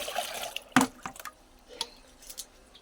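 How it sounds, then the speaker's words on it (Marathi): Water splashes and drips onto garden plants, including a hibiscus, in a few short, quiet bursts with faint trickling between them. "तर झाडाला पाणी मी देऊन देते"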